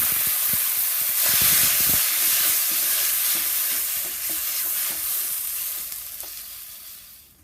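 Cumin seeds sizzle and crackle in hot oil in a kadai while Kadai Paneer is being cooked, a loud steady frying hiss with scattered pops that eases slightly toward the end.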